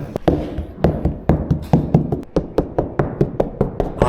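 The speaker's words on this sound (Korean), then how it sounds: "톡톡 노크를 한번 해보세요" Knuckles tap repeatedly on the door panel of a Tesla Model Y Juniper, a quick steady series of dull knocks, close and clear with no talking.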